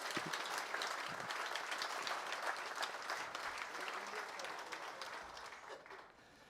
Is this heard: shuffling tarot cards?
no